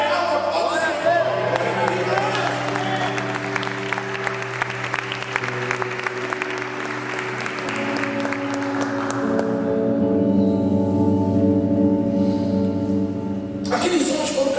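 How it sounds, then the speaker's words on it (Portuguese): A church congregation bursts into loud applause for God, dense clapping mixed with cheers that gradually thins out, while a voice talks and sustained music tones play underneath. "Glória a Deus, bem alto, aplausos a Deus"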